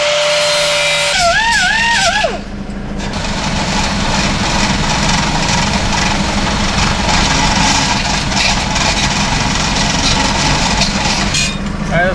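An angle grinder with a flap wheel works over welds on a metal lathe tool holder, a loud sustained whine and grinding roar running steadily for several seconds after a brief warbling tone at the start.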